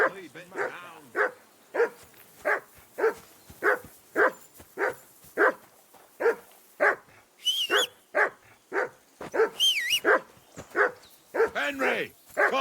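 Dog in Kingdom Come: Deliverance 2 barks over and over in a steady, close, insistent rhythm, sharp repeated woofs with a few higher whines and yips mixed in near the end.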